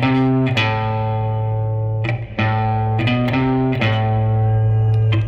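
Distorted electric guitar playing a spooky Halloween riff: loud, sustained heavily overdriven notes that change every second or so with sharp picked attacks, alone and close.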